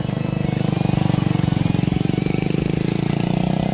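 A motorcycle engine idles while warming up, a steady, fast, even putter held close by for the whole stretch with no change in revs.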